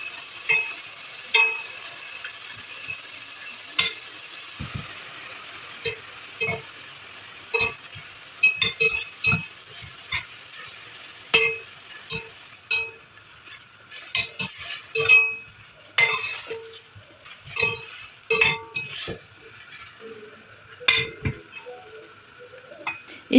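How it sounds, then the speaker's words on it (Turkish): Cubed beef, 300 grams, is stirred in a pot as it cooks, giving soft sizzling under sharp, irregular clinks and scrapes of a utensil against the pot, close and moderately loud, with no talking. "Uygun bir tencereye 300 gram kuşbaşı doğranmış dana etimizi alalım. Etler suyunu salıncaya kadar karıştırarak pişirelim."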